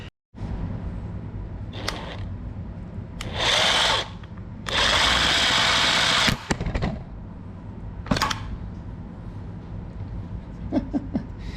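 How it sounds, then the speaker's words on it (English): An impact wrench drives bolts into the back plate of a Porsche 944 engine. It comes as short, loud, rattling bursts, one brief and one longer, with a few quick taps in between and a low hum behind. "So using the impact wrench and very carefully leveraging it and then getting into here, I was able to get 2, 3, 4 bolts."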